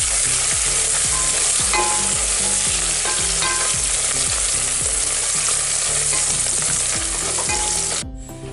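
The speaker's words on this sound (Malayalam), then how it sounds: "നമുക്ക് സിമ്മിൽ വെച്ച് നന്നായിട്ട് വഴറ്റിയെടുക്കാം." Coriander leaves and mint being sautéed in a pan, a loud constant sizzle with regular rhythmic stirring scrapes throughout, close up, ending abruptly near the finish.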